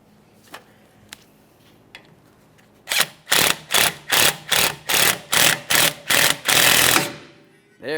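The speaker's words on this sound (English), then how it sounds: "As you drive this in, it's going to start pulling the drum out and away." A bolt is driven into the threaded ports of a Toyota Corolla rear brake drum to pull it off, giving a few faint clicks, then about eight loud rhythmic mechanical ratcheting bursts close by.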